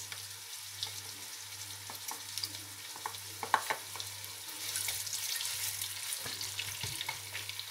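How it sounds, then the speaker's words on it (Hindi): Onions fry in hot oil for chicken pulao, making a quiet, steady sizzle with a low hum underneath and a few soft clinks, rising slightly toward the end. "तेल गरम हो गया, अब डालेंगे प्याज और इसको ब्राउन करेंगे"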